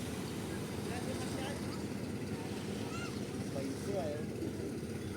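A large motorboat engine runs at speed, a loud, steady low drone that fills the whole stretch, with people talking over it.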